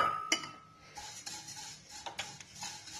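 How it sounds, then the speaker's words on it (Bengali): Flattened rice (chira) dry-roasts in a pan, giving faint, intermittent scraping and rustling with light clicks as it is stirred, quiet and close with no voices. "এবার চিড়েটাকে ড্রাই রোস্ট করে নেব"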